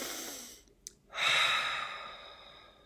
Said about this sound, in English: Okay, deep breath first,